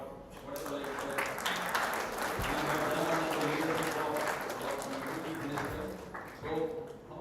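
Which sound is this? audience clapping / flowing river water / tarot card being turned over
audience clapping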